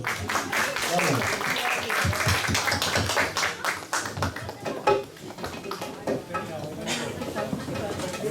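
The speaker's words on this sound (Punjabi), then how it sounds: "ਤਾੜੀਆਂ ਨਾਲ ਸਵਾਗਤ ਕਰੋ" A church congregation at a Punjabi worship service claps continuously to welcome the singer, dense steady applause with talk and voices mixed in throughout.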